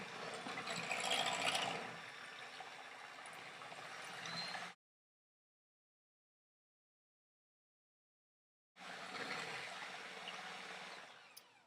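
An electric mixer whirs as it beats crepe batter until frothy, making a faint buzzing drone in two separate stretches with a silent gap between them.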